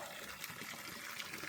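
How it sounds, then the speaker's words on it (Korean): Water trickles and splashes softly from a garden water feature where water drips down from a tree ornament at an outdoor country house by a lake, with a faint, steady flow and no talking. "물소리 정말 좋습니다."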